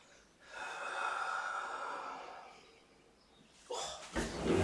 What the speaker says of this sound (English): breathe out, relax, breathe